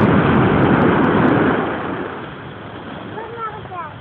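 Big sea waves at Luan Beach in Leyte make a loud, broad rushing roar that fades slightly, with voices and chatter rising near the end.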